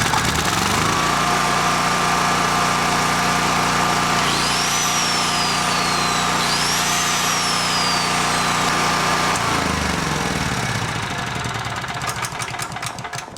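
A Honda generator starts up after a carburetor fix and runs steadily with a loud, even engine drone and a bench grinder connected to it. The note shifts twice as the load changes, then settles back down and fades slightly at the end.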